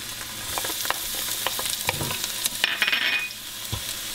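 Onion frying over medium heat for a Peruvian fish stew sizzles loudly and evenly, close to the pan, with scattered pops and a brief scrape of stirring.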